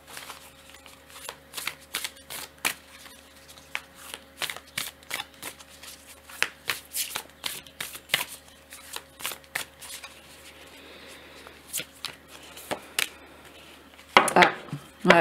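Tarot cards shuffled and dealt by hand, crisp riffles and soft slaps in an irregular rhythm, close and fairly quiet, ending in a louder rustle of cards.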